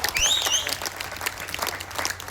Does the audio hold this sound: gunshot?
no